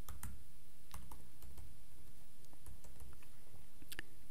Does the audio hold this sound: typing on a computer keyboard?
yes